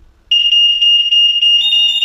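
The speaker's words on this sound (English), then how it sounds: "So we're gonna do the alert again, and we're gonna make the alarm." A DIY smart home security system alarm sounds, a loud piercing steady electronic tone that starts abruptly after a brief quiet moment and shifts to a harsher layered tone near the end.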